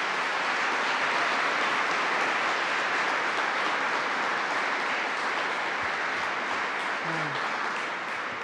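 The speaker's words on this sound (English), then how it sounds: "Let's give another round of applause to Betty Rosa." Dense, steady applause from a large audience at a state governor's school funding announcement in New York, filling the whole stretch at constant loudness with a brief faint voice near the end.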